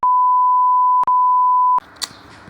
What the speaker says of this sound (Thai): โอ้ยแจ้งเตือนแม่ง น่าเกลียดเกิน